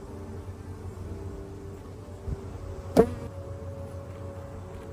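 Agitated honey bees droning around an opened hive during a honey harvest, a steady low buzz close by with a couple of brief knocks or bumps partway through.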